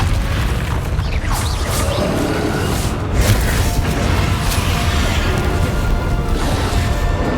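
Bombarda explosion spell cast in Hogwarts Legacy, a loud, dense blast and rumble that fills the whole stretch without a break, with crashing debris over a steady roar.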